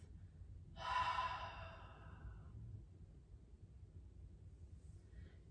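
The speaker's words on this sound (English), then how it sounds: "And then exhale through the mouth." A single deep breath exhaled through the mouth during a short guided meditation, one soft breathy rush near the start that fades out, followed by quiet room tone.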